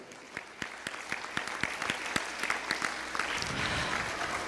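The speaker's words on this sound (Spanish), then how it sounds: "Vamos a darle un aplauso al Señor." A church congregation clapping during a Spanish-language worship service: distinct sharp claps in a loose rhythm that build into fuller, steadier applause toward the end, moderately distant.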